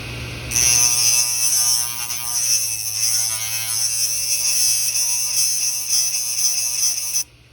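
A homemade grinder built from a computer hard disk drive spins at high speed, giving a loud, steady high-pitched electric whine that starts abruptly and stops sharply at the end.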